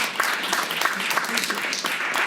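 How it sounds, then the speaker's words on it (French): A church congregation claps together in a dense, steady burst of applause filling the room, without talk over it. "J'aimerais entendre un grand applaudissement"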